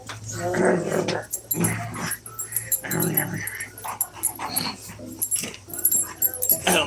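Dogs named Oliver and Duchess growl, whimper and yip in close, uneven bursts while squabbling over Duchess's food, with people talking at the same time.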